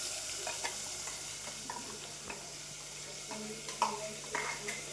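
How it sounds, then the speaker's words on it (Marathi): Black masala sizzles and fries in a pan for chicken curry while a spoon stirs it, giving soft, scattered scrapes and clinks over a low, steady sizzle. "आपला जो काळा मसाला आहे तो इथे घातला आहे"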